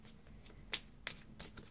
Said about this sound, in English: You shuffle them like this.